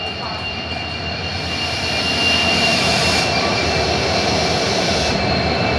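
A train pulls into a station in rainy weather on the Dudhsagar route, a steady broad rumble and hiss that swells louder midway and holds, with faint tonal whine above.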